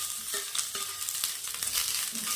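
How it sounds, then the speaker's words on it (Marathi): Close, steady sizzling of onion frying in hot oil, with the scrape and clatter of stirring in a metal wok; no voices. "कढई ठेवलेली आहे आणि त्यामध्ये एक चमच तेल टाकलेलं आहे आता यामध्ये एक कांदा टाकायचा"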